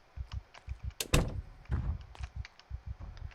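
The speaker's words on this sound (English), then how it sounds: "I'm just going to close that door." A door swings shut in the Project Zomboid video game, giving a dull wooden thunk with a short clatter near the middle. Steady low thumping runs underneath throughout.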